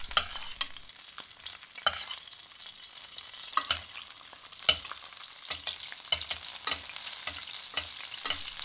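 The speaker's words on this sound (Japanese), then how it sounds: "このミント油に匂いを移してまたアロゼしながら鴨自身にミントの香りを移していきます。" Duck breast basting in sizzling mint-infused oil: a steady close-up sizzle with frequent sharp spatters and spoon scrapes at irregular moments, no voices.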